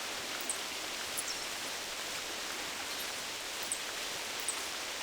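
Steady rain falling in the high country, a constant broadband hiss with occasional faint drips, close and even throughout, no talking.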